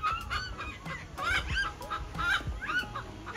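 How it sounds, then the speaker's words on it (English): A golden pheasant hen calls repeatedly at a park enclosure, giving a series of harsh, rising honking squawks in uneven bursts, fairly close and loud over faint background noise. "And she's a noisy hen."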